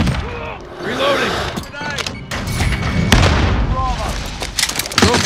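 Call of Duty Modern Warfare (2019) Domination match in the Killhouse: an RPG explosion booms amid continuous gunfire and game chatter, with dense low thuds and tonal callout voices running throughout.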